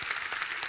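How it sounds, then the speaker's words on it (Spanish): Congregation applause inside Iglesia Salem Madrid: a brief, steady wash of many hands clapping together, even in level and fairly soft throughout. "Les damos un aplauso."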